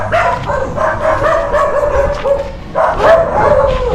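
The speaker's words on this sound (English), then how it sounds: "The barking." A dog barks and yips in quick repeated bursts close by, with a short pause before another run of barks.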